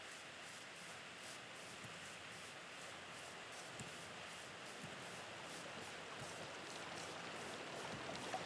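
A small river of flowing water in Minecraft Classic makes a faint, steady rushing hiss that holds level and swells slightly toward the end, with no speech.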